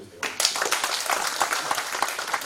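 An audience at a church forum bursts into applause after a short quiet moment, a busy patter of clapping hands with some voices mixed in.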